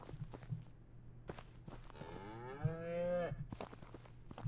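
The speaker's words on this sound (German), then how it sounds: "Ich kann nicht vorbei an der Kuh." A cow moos in the farming video game Ranch Simulator, one long drawn-out low moo, near and clear over faint footsteps and a quiet background.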